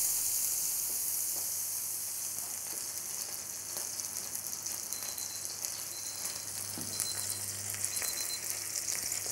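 Minced beef patties laid in a hot pan with a little butter sizzle and spit steadily at moderate loudness, a continuous bright crackle with a faint low hum beneath and no talking.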